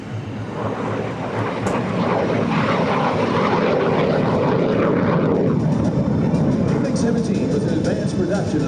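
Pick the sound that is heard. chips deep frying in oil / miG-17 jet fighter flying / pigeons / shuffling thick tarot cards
miG-17 jet fighter flying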